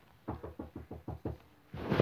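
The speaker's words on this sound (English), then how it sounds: "Someone's knocking." Knocking on a door in the Roblox game Royal High: a series of about seven evenly spaced, fairly soft thuds, followed by a brief burst of noise at the end.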